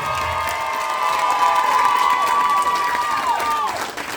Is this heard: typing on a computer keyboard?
no